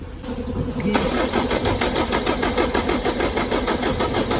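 A Mitsubishi 4M40 diesel engine, fitted with a new head gasket and radiator, cranks briefly and then catches, settling into a loud, rhythmic diesel clatter close by.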